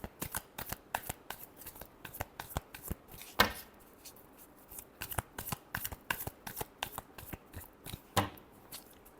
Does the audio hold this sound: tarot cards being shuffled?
yes